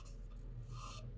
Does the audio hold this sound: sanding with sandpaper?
yes